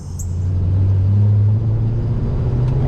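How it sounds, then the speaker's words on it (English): A 1970 Pontiac GTO with a 455 HO V8 and Tremec 5-speed rumbling while driving, a loud, deep engine drone that swells and holds steady with a slight change as gears shift, no speech. "the owner, Kevin Engel, throwing the gears in his Tremec 5-speed disguised as a 4-speed"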